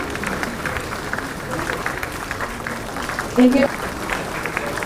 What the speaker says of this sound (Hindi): तालियों में कमी ना हो।